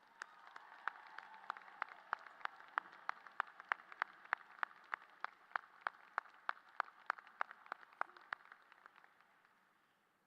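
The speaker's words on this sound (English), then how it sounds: "How about another round of applause for our OHS band and Mr. Mark Stice?" An audience at a high school graduation gives a round of applause for the school band: sharp, regular claps pulse steadily throughout, moderately loud in a large room, fading toward the end with no voices over it.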